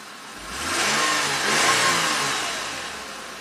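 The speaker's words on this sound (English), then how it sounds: "Let's fire the car up." A 2008 Lexus IS250 engine starts and revs, the mid-pitched engine note rising into a smooth rev, holding, then easing back toward idle, close and fairly loud.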